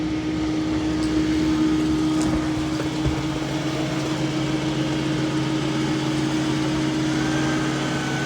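Mova P10 Pro Gen 2 robot vacuum mop cleaning along a wall and into a corner, a steady close motor hum and whir running unchanged throughout, with a few faint clicks.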